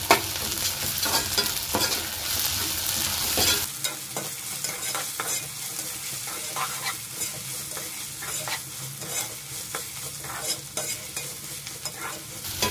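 Chopped onion with ginger and garlic sautés in a hot pan for a squid gravy: a loud sizzle that drops after a few seconds, followed by repeated scraping stirs of a spatula against the pan, close up and without talk.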